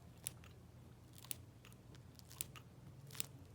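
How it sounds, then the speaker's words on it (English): Four sharp, spaced snips of scissors cut through the filter foam of a Coloplast ostomy pouch, close and crisp over a quiet room background. "So I'm just gonna snip that."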